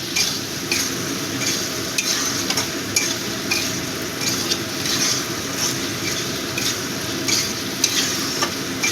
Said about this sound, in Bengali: কিছুক্ষণ কষাবো যাতে আদা রসুনের কাঁচা গন্ধটা চলে যায়